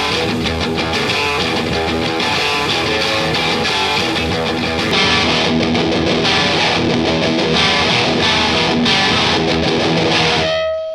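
An electric guitar played through a Superplexi amp, gain at three quarters and tone controls wide open for a crunch, rings out loud and distorted with driving chords for about eleven seconds, with no talk over it.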